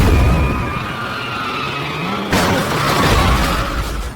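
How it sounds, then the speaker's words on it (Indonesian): A car's tire bursts at speed, sending the car skidding with a prolonged tire screech before a sudden loud crash and a burst of crunching impact noise that rings on. "dalam perjalanan ban mobil mereka pecah sehingga kecelakaan pun tidak terelakkan"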